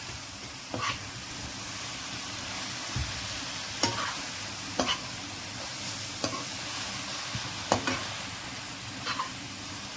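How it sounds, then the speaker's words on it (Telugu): Ivy gourd masala curry stir-fried over a low flame, a steady soft sizzle with occasional spatula scrapes against the pan, fairly close and with no talking. "సిమ్లో పెట్టుకొని ఈ మసాలా అంతా కూడా బాగా వేగి దొండకాయకి పట్టేలా వేయించుకోవాలండి."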